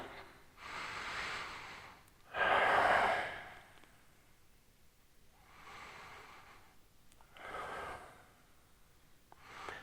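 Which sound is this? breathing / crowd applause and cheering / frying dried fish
breathing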